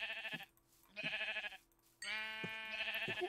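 Sheep in the video game Minecraft, three clear bleats in a row, the last one longer, close and distinct with short quiet gaps between them.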